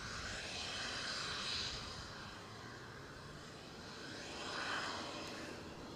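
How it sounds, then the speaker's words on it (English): A business jet taxis out to line up at Edinburgh airport, its engines a faint, distant broadband whine and hiss that swells and fades gently, heard alone. "I get the sense with the change in sound that our Bizjet is taxiing on out"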